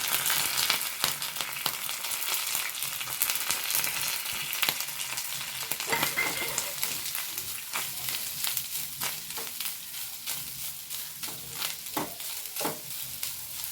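Mustard seeds, grated coconut and curry leaves fry in hot oil, a continuous sizzling hiss with scattered sharp crackles and pops and occasional spoon scrapes as the mixture is stirred, close and steady throughout.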